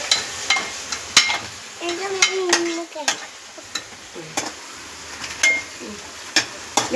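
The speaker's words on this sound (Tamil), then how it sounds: "நல்லா கலக்கு கலக்கு." Chicken coated in homemade biryani masala is stirred in a sizzling pan, with a spoon scraping and tapping in irregular strokes over a soft, constant sizzle, and a faint voice is heard briefly.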